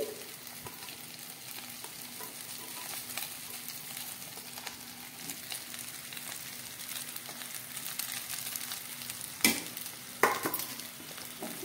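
Cooked rice for chicken egg fried rice stir-fried in a hot pan, a steady soft sizzle with scraping stirs throughout and two sharp utensil knocks near the end.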